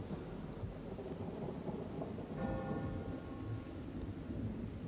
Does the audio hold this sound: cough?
no